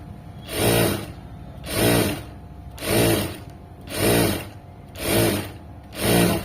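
A sewing machine stitches right beside the cord of fabric piping, running in six short, evenly spaced bursts of loud whirring with brief pauses between them.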